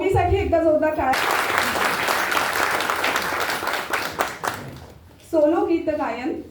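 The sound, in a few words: audience applause at prize ceremony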